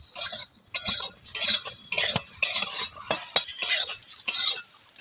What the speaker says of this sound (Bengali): পটলটা ভাজা হয়ে গেছে, এখন আমি কড়া থেকে তুলে নিয়ে নেব।